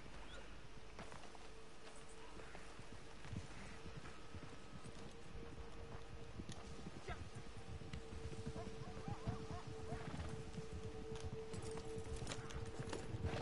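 A horse in the video game Red Dead Online gallops with a fast, steady clip-clop of hooves, fairly quiet and continuous, with no voices.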